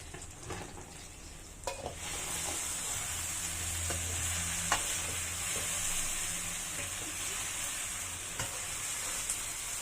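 Sardine gravy fries in a pot with a steady, dense sizzle as it is stirred, with occasional scrapes and light clinks of the utensil against the pot.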